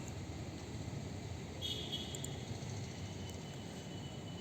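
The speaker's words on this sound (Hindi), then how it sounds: "रेल छुक छुक की आवाज़ करती है" A train rolling past gives a continuous broadband rumble and rattle of wheels on track, steady and moderately loud throughout.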